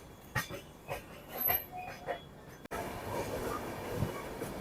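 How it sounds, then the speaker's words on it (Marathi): A passenger train runs toward Borivali, rumbling and clattering in rhythmic pulses from inside the coach. A sudden cut leaves a denser, rougher rolling noise. "तर आपली ट्रेन आता बोरिवलीच्या दिशेने चालली आहे"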